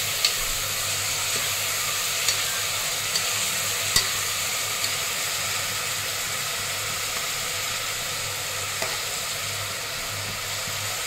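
Onions and tomato frying in a pan, a steady loud sizzle with a few faint clicks of stirring, no voices.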